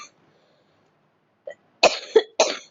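After a stretch of near silence, a person coughs several times in quick, harsh bursts close by.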